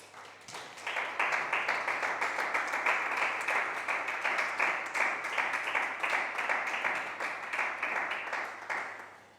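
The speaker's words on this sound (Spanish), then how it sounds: "También dale un fuerte aplauso a Cristo Jesús" A church congregation applauding during a service, many hands clapping together in a dense rapid patter that swells in within a second, holds steady for about eight seconds, then tapers off.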